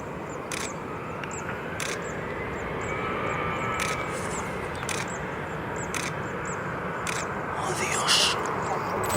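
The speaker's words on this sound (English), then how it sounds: "this Boeing 767 is about to land at the Barcelona airport" A Boeing 767 comes in to land at Barcelona airport, its engines a steady broad roar that swells slightly toward the end, with a few faint clicks over it.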